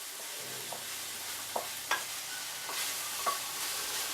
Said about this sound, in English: Meat's starting to brown up.